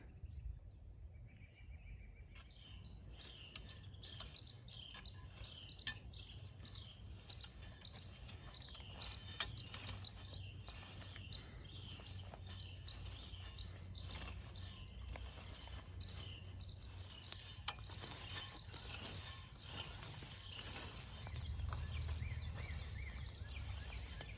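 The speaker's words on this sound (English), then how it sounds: "Okay, I've got the wheel hoe set up. We're ready to start cultivating the last 2 rows of the garden." A Hoss Tools wheel hoe cultivates garden rows, giving a continuous scraping, rattling mechanical sound of metal working through soil, with faint insect chirps in the background and no talking.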